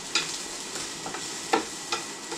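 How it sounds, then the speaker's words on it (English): Hash browns and mushrooms sizzle in a pan while a utensil stirs them, giving several quick scraping strokes over a constant hiss of frying. "There, give these a stir."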